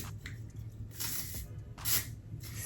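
Two or three quick hissing bursts of a spray bottle, close by, over a low background rumble, spraying a lace frontal wig during install.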